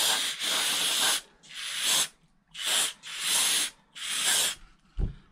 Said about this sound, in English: we'll spray it out again real good